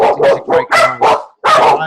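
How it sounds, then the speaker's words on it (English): A dog barks nearby in a rapid burst of about six loud, sharp barks with a brief pause before the last, while someone speaks over the start. "That's a dog, isn't it?"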